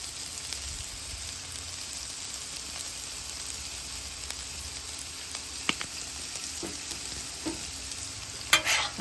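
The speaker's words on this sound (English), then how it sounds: "we're going to fry those and brown those in that bacon fat" Food browning in bacon fat on a hot griddle, a steady close hiss of frying that continues throughout, with a few soft taps and scrapes near the end and no voices.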